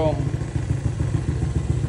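A Honda Click v2 scooter fitted with a new Kenochi exhaust pipe runs with a steady, close, low engine rumble for about two seconds, and a voice is briefly heard at the start.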